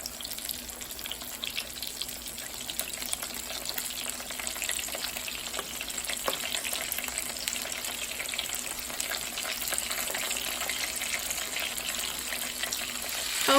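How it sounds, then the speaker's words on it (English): Fish for Jamaican escovitch sizzles steadily in hot oil in a pan, a dense, even crackle with faint bubbling that holds at a constant moderate level throughout, with no voices. "I'm going to fry this for about 5 to 7 minutes on each side"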